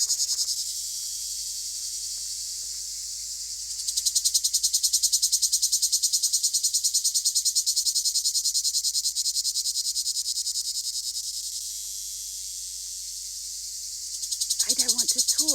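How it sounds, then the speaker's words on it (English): Cicada singing in a vineyard at Colombier, a loud continuous buzzing drone close by that swells louder after a few seconds and holds steady, with a brief voice at the very end. "I think I've disturbed the cigale in one of the vines"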